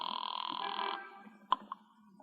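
An old telephone bell rings steadily for about a second in a radio mystery drama, then cuts off and is followed by two sharp clicks like a receiver being lifted, all fairly quiet.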